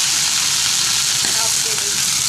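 Chicken pieces sizzle in about a quarter cup of hot oil with ginger-garlic paste, a steady loud hiss throughout. Someone speaks over it.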